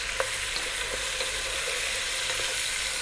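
Lean cubed stewing beef frying in butter in a pan, a steady close sizzle with faint scrapes and clicks as the pieces are stirred.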